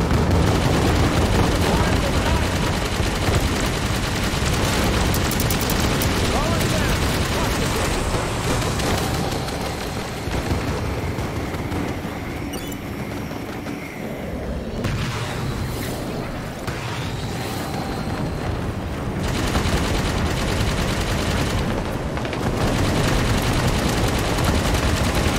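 Gunfire from a strafing run in Halo 5 keeps up for the whole stretch as a dense, loud, rattling barrage with sharp bursts layered over one another. Voices come through now and then beneath the shooting.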